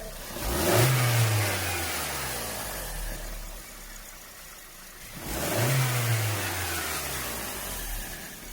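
A car engine with a timing chain fault revs up twice, each burst rising in pitch then settling into a steady drone, close by with no voices.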